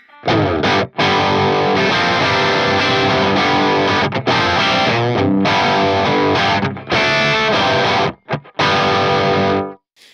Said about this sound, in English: that to me is like a perfect classic rock crunch